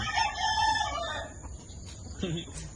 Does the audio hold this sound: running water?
no